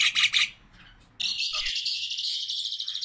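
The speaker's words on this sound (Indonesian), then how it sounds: "Di Indonesia sendiri bisa dinamakan burung jalak nias" Nias myna calling: a loud, bright run of harsh whistles and chatter in two bursts, then a pause, then a longer sustained shrill call, heard alone and close.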